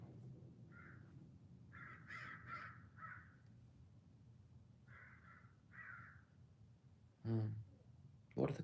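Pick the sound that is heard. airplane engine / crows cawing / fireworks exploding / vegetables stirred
crows cawing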